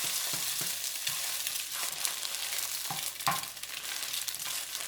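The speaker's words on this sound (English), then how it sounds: "Try to scramble up the eggs." Eggs scramble in a hot frying pan for beef fried rice, a continuous close sizzle with scraping and tapping from a utensil stirring them, no voices.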